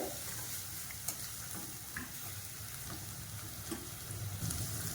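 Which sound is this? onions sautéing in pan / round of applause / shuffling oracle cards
onions sautéing in pan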